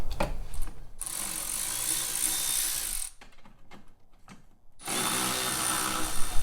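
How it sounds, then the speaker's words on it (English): A ratchet and power tool remove 8mm bolts holding a plastic cover on a Jeep Wrangler JL rear bumper, two loud sustained whirring bursts close by, separated by a quieter stretch of clicks and handling, no talking. "we gotta get an 8mm, and we're gonna pull these two bolts that hold this plastic cover on"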